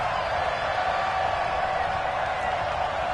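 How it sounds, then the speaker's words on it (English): A stadium crowd roars steadily at an NFL game, New England at Seattle, building toward a big third down, a dense, unbroken wash of distant voices with no distinct pauses. "The crowd getting into it as we come up on a big 3rd down"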